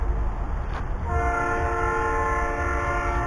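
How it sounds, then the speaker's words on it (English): A train passing near a campsite, a loud, steady rumble of rail cars with a sustained horn blast that sets in and holds, close and dominant. "there's a train coming"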